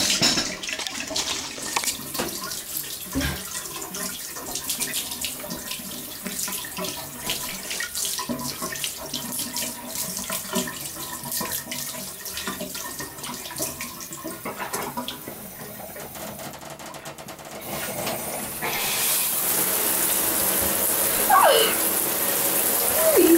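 A household tap runs steadily into a sink, a soft continuous splashing stream that swells louder toward the end, with faint bumps and movement around it.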